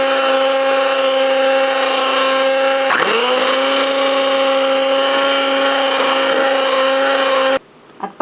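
Electric hand mixer beating chocolate crinkle batter with vanilla, a loud steady whirring motor that dips briefly in pitch as it bites into the mixture, then switches off near the end with a few faint clicks.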